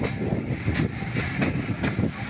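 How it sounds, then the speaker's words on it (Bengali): A passenger train on the Ishwardi to Azimnagar (Gopalpur) line in Pabna, Bangladesh, slowing down as it approaches the station, heard as a steady, loud rolling rumble with wind noise and faint rhythmic thumps throughout. "আমাদের ট্রেনটা অনেক স্লো করে দিয়েছে,"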